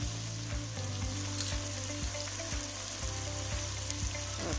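Chicken fries in a pan for chicken jalfrezi, a soft, steady sizzle with a regular beat of low thumps and faint clatter as it is stirred, no voices present.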